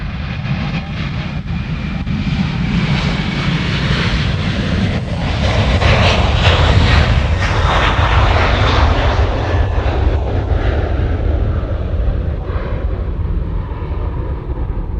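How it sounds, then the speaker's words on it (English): A Qantas jet airliner departs Honolulu bound for Sydney, its engines a loud, sustained roar that swells in the middle and slowly fades as it climbs away, with no voices. "So this is Qantas heading back to Sydney."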